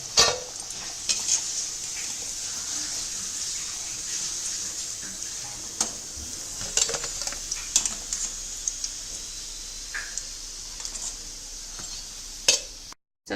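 Chapdi dough deep-fries in hot oil, giving a steady, close hiss and sizzle with scattered crackles and pops, plus occasional clinks and stirring noises, with no talk.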